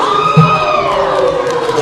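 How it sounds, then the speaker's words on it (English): A wrestling crowd at a North West Pro Wrestling show cheers and shouts loudly for Jimmy Flame, a steady roar of voices with a brief whoop rising out of it. "And this crowd really lets Jimmy Flame know what they're doing."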